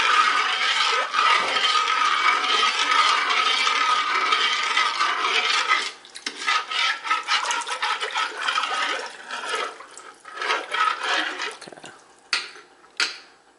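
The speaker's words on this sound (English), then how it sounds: "So now we'll just let that sit and continue to heat up and we'll keep stirring." Spoon stirring a potassium nitrate solution made from stump remover in a pot on the heat, with a steady scraping and swishing of liquid that runs continuously, then breaks into separate strokes and clinks near the end.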